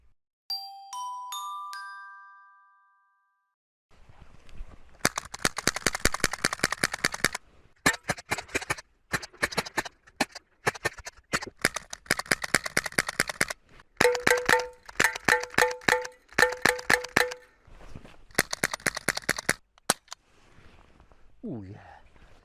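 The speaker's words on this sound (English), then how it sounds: "how fast can I fire all 39 BBs out of this?" A KWC M-11 BB gun fires a high-capacity magazine of 39 BBs in rapid bursts of sharp, close clicks and snaps, broken by brief pauses, after a few chiming tones at the start.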